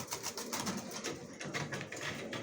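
Racing pigeons coo inside a loft, a soft layered murmur of low throaty calls close by, steady and unbroken, with no voices.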